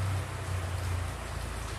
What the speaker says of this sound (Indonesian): aku bisa dengerin suara hujan jatuh dari langit